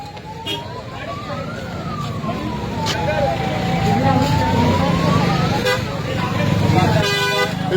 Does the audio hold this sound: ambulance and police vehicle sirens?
yes